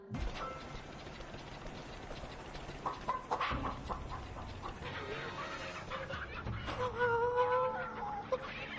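Several chickens cluck and squawk in a busy, overlapping chorus, with sharp bursts rising over a constant background of fowl noise.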